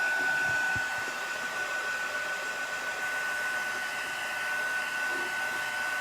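A hair dryer blows steadily on a chalk craft project, a constant close whooshing hum with a faint high whine running throughout, no voices.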